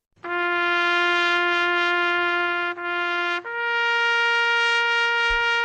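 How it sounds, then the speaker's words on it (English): Taps sounded on a bugle at the Pentagon's 9/11 memorial ceremony: long, clear, sustained brass notes, loud and close, with a step up in pitch partway through and nothing else underneath. "That's the sound of taps being played at the Pentagon 9/11"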